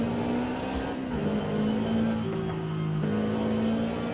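Cabin view engine sound of a Toyota GR86 in Forza Horizon 5, a sustained buzzy drone rising and falling through gear changes, with a couple of sharp drops in pitch, close and steady.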